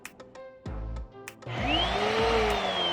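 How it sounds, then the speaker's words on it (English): A Eureka upright vacuum cleaner starts with a few clicks and then spins up into a loud, steady whirring roar as its beater brush turns, with a rising motor whine. "see if the beater brush spins when the vacuum is running"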